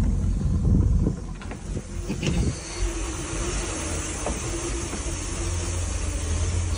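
A Crusader gas marine engine idles on a boat during a test run, cooled by a makeshift garden hose and bucket: a steady low rumble with a few sharp clatters early on, close by and with no talking.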